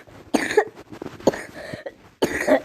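A person coughs in three separate bouts spaced across the moment, each a harsh, close burst with raspy trailing breaths between them.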